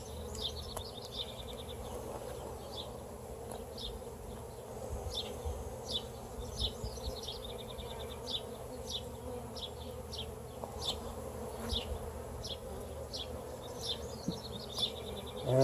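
Honey bees buzz steadily around an open hive during an inspection, a close, constant low drone with a faint rhythmic chirping, likely crickets, in the background and no talk.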